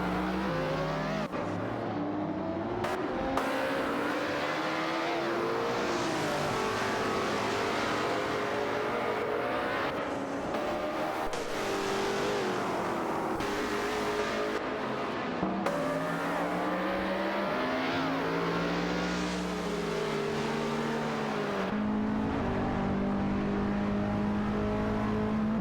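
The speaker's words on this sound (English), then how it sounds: "Speedster 92 has made a successful overtake on Driftking 77, moving up to 6th place" Race cars in an AI-run race speed around the track, with engines continuously roaring and rising and falling in pitch as the cars accelerate and overtake. The sound is loud and steady, with no talk over it.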